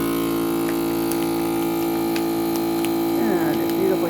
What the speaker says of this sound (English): then you go up here and you click your vacuum seal